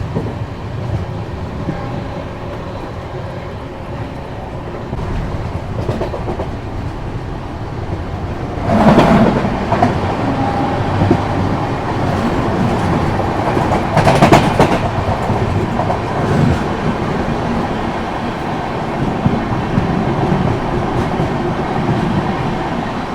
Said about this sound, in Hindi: वहाँ से अभी छूटी है स्वराज एक्सप्रेस, उसकी क्रॉसिंग दिखाते हैं